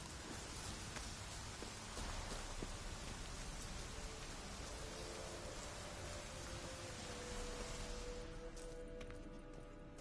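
Steady rain in the video game The Witcher 3: Wild Hunt, a broad constant hiss of falling water at even loudness, with faint tonal ambience emerging toward the end.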